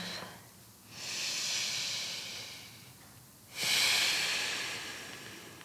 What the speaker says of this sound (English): Connecting with your breath.